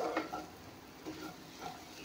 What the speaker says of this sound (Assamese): এয়া চাওক, কঁঠালখিনি ভালদৰে ভাজি ল'লোঁ